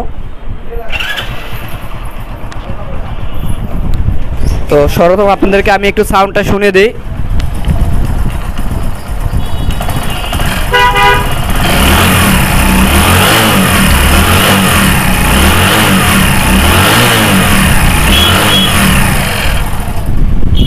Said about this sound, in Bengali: এখন আমি সেলফ দিয়ে বাইকটা স্টার্ট দিব